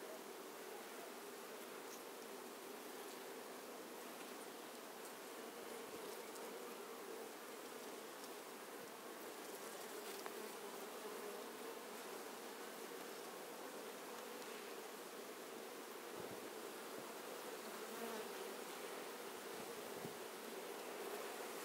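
Honey bees from a trapped swarm buzz around an open hive in a dense, continuous hum that stays even throughout, with no voices.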